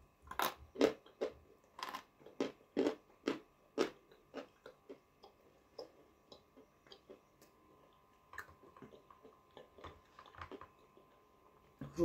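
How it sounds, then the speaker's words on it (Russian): Crunching bites into peschanka halva, a creamy, rich sandy-textured halva, with sharp, close crunches in quick clusters early on that thin out into softer, scattered chewing crackles and then pick up again near the end. "Хруст песчанки не сравнится ни с чем."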